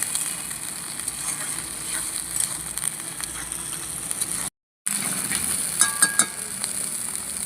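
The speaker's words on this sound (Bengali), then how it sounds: "এবার বেটে রাখা আদা জিরে আর কাঁচা লঙ্কাটা দিয়ে দেবো ভালো করে মিশিয়ে" A paste of ginger, cumin and green chilli sizzles steadily in a pan with already-fried potatoes, a continuous close frying hiss with a brief break and a few small pops near the end.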